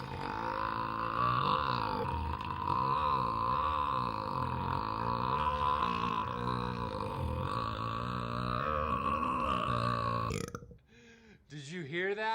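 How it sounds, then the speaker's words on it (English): A man lets out a long, loud, drawn-out burp after drinking an aromatic hazy beer, rumbling and wavering for about ten seconds before a short pause and a brief second gurgle. "I just have a whole compilation of like just me burping."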